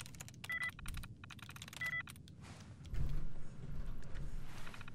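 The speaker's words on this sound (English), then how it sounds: "Man's typing on a locked computer over here." Rapid keyboard typing from Fallout 4 as a character works at a locked terminal, two short bursts of quiet clicks with soft electronic beeps, followed by a louder rustling, mechanical game ambience.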